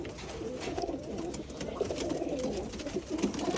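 Pigeons coo in steady low rolling phrases, close and fairly loud, repeating through the stretch with no speech over them.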